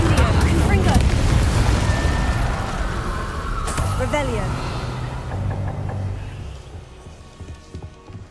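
Confringo and Incendio spell blasts in Hogwarts Legacy, with loud booming explosions and crackling bursts that fade into rumbling debris while a voice shouts over them.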